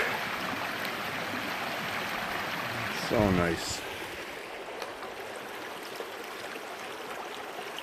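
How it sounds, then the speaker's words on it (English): A babbling brook on a forest trail in Frontenac Provincial Park in April rushes steadily and fills the whole clip, with a brief louder splash partway through and a short spoken remark over the water. "And you have the quintessential babbling brook."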